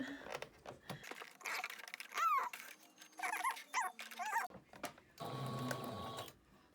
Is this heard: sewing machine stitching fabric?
yes